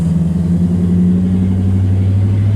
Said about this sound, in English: What an obnoxious car.